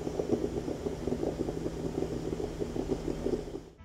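A stovetop moka pot brews espresso with a steady low gurgling, sputtering bubble and faint hiss over a constant hum, fairly quiet and continuous until it cuts off at the end.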